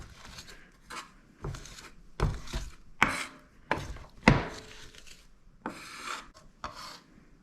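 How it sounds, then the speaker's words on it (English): Kitchen knife crushing and scraping garlic into a rough paste on a cutting board, a series of about a dozen short rasping smashes and scrapes in an irregular rhythm, close and fairly quiet with no talking. "We're going to smash this down. Almost making a paste, not quite."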